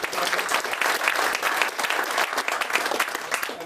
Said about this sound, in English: they could get a little round of applause